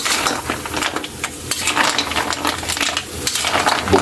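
Ginataang vegetables with string beans and squash being stirred in a cooking pot, a busy close-up run of ladle scrapes and metallic clinks over a light simmering sizzle, with no talk.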